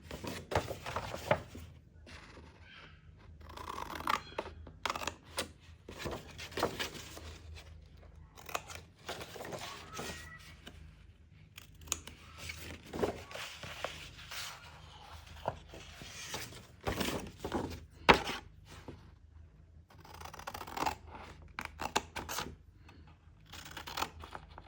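Paper being cut with scissors for a handmade Valentine's chocolate gift bag, a steady run of close, crisp snips and rustles along a scored sheet, with no talking.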